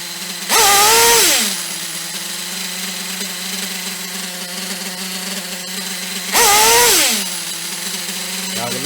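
A small nitro engine on a radio-controlled model runs at a high idle with a steady buzzing drone, briefly revving loudly twice and then settling back, heard up close.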